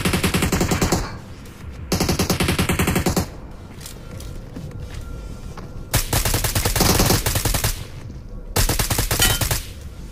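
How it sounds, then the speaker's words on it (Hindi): Automatic gunfire in the mobile battle royale game BGMI, with several loud rapid-fire bursts separated by short quieter gaps, no talking. "यहां पर गोली चलने की आवाज आती है"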